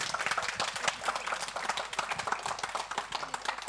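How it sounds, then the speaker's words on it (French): Audience applauding in a hall during a local French ceremony, with dense, steady clapping filling the room for several seconds. "Angélique, vous pouvez l'applaudir également."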